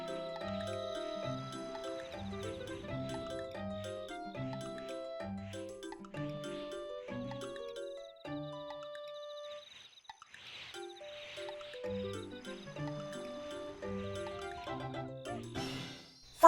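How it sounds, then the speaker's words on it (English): Video game music from Super Mario Galaxy: a remix of the Super Mario Bros. 1 underwater theme, with steady bouncing bass notes and bright melodic chimes playing alone at a moderate level, ending with a sudden burst of noise. "It was a remix of the underwater music from Super Mario Bros. 1."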